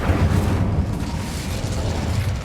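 A burst of fire magic from the Incendio spell in Hogwarts Legacy, cast at an archway: a loud, sustained rumbling whoosh that holds steady for a couple of seconds with no talk.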